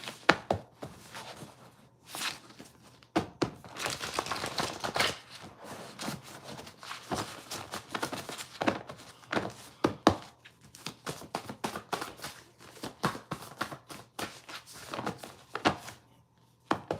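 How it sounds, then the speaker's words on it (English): A deck of cards shuffled again and again, with quick papery riffles and soft taps in uneven bursts, close and fairly quiet, with no voices. "One more shuffle."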